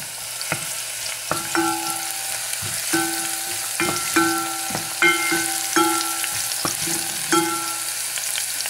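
A small amount of onion, about a quarter cup, fries in a pan for Ethiopian shiro, sizzling steadily while a utensil taps and scrapes the pan in a repeated rhythm.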